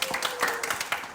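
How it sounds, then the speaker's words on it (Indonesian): Several people in a small podcast or talk-show audience clap together, a brief, close burst of hand claps with some speech mixed in. "Oke, tepuk tangan dulu dong teman-teman."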